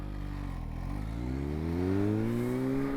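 A 2021 Kawasaki Z H2 motorcycle accelerates on the road, its engine note climbing smoothly in pitch over a few seconds. The sound is close, continuous and steady, with no talking.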